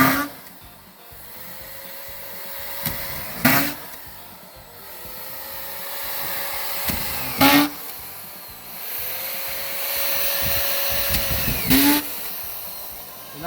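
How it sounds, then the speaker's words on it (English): A power drill drives screws into Advantech subfloor at a cabin, whirring in repeated short bursts, three or four times, between stretches of steady background noise, close by. "She's using the automatic drill,"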